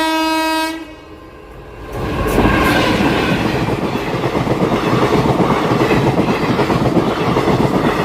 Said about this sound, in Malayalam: പിന്നെ നമ്മളെ ട്രെയിൻ വന്ന്